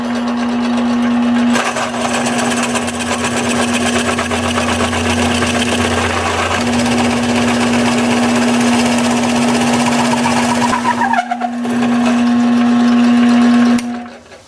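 A wood lathe spins a sycamore blank, giving a loud, steady motor hum with grinding and scraping from the turning work. The sound cuts out briefly twice and resumes, with no voices.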